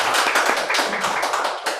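Audience applause at a chess debate event in Kenya, a short burst of dense, crisp clapping from a small crowd, loud and close, fading slightly toward the end.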